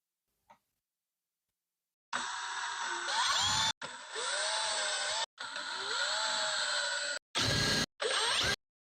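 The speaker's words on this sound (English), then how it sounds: "I'm going to use the drill because that way it's not going to hammer in" An electric drill driving screws whirs in several bursts of a few seconds each, pitch rising as it spins up, separated by brief pauses; a faint click precedes it.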